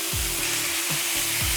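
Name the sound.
chicken sizzling on a grill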